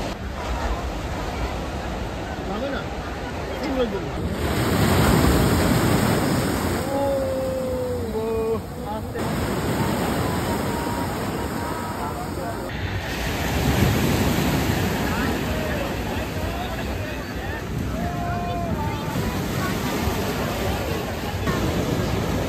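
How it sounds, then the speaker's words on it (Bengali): Sea waves roll and crash onto the beach at Old Digha at night in a continuous heavy roar of surf, with faint voices and a high electronic whine carrying over the steady wash. "এই নিকষ আধারিতে সমুদ্রের সফেন রূপ এবং তার গগনভেদী আওয়াজ মনটা জুড়িয়ে গেল"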